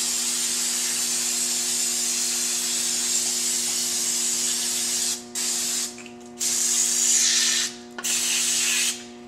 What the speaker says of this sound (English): I take brake clean and I just brake clean this off real good